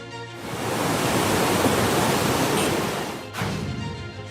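Floodwater rushing loudly after a cloudburst and heavy rain in Himachal Pradesh, a dense, steady roar that holds for several seconds, dips briefly and then surges back.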